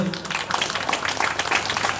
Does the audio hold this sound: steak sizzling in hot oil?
no